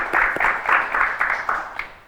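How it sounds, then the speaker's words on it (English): An audience applauds a guest writer and director at a career talk in Los Angeles, a short burst of dense clapping that swells and then fades within two seconds. "Y'all give a round of applause for him."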